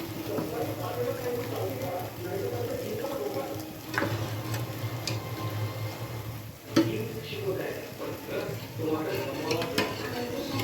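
Dried mutton masala is stirred and turned in a pan with a utensil, giving steady scraping and clinking with a soft sizzle throughout, while a person talks over it.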